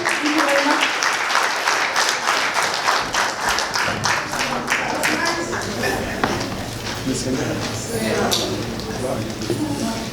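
Audience applause at a conference, a sustained burst of loud clapping from a crowded hall lasting about ten seconds, with a voice speaking over it.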